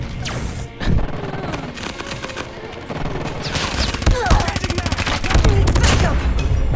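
Gunfire in the mobile shooter Call of Duty Mobile, loud rapid automatic bursts and single shots with impacts and crashes, dense and continuous, game sound effects layered over one another.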